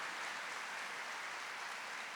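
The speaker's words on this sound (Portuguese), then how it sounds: "E pode aplaudir isso." A church congregation claps together during a sermon, a steady, dense roar of applause from many hands, even in loudness throughout, with no voices on top.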